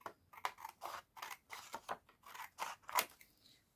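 Scissors snip through paper for a recycled junk journal, a close, quiet series of about a dozen crisp cuts in an irregular rhythm with no talking.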